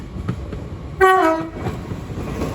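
An arriving LNER Class 800 train sounds its two-tone horn at Peterborough station, one loud close blast with a higher note falling to a lower one, over the rumble of the train and platform ambience.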